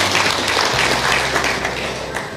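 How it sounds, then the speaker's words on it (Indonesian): A church congregation claps and cheers in lively applause, a dense, loud wash of hands filling the room throughout, with a low hum underneath. "Berikan tepuk tangan yang meriah buat Tuhan."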